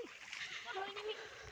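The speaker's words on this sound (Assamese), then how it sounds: "পানী ইমান গছকি গছকি আহিছোঁ" Splashing and sloshing from someone wading through knee-deep muddy water in a rice paddy beside a river, heard close and continuous beneath a person talking.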